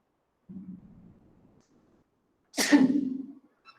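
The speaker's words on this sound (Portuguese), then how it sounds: "O professor também espirra." A man sneezes once during a live online law class, a short breath drawn in first, then a sudden sharp burst that fades quickly, close and clear in an otherwise quiet room.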